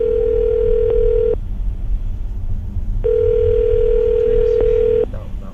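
A telephone dial tone sounds for about a second and a half, stops after a click, then returns for two more seconds as a line is dialed for a morning radio show call; steady, clean and close.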